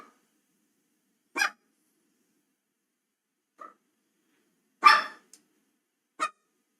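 A dog barks in four short, separate bursts spread over several seconds, in an otherwise silent room. The bark is near and moderately loud, with no talking.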